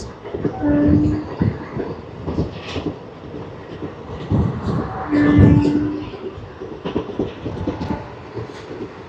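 ICF coaches of the Narasapur Express rolling slowly and steadily, a continuous rumble with rhythmic rail clatter swelling and easing, a brief tonal whine near the middle, and some voices in the background.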